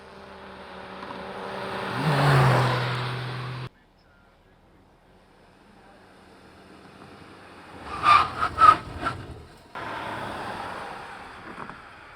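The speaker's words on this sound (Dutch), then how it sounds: "De auto reed zo'n 15 keer heen en weer." A car is driven back and forth about fifteen times along the N290 road by police collecting measurements after a fatal crash, sometimes braking hard; a loud road and engine rush fades, a quiet stretch follows with a few close knocks, then the rush returns.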